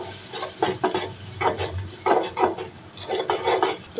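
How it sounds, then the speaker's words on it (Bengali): Spiced paste of ground coriander, ginger and cumin with salt being stirred and fried in a pan, a run of close scraping strokes with bursts of sizzle repeating every half second or so, no voices. "তবে নেড়ে ছেড়ে কিছুক্ষণ কষিয়ে নেব"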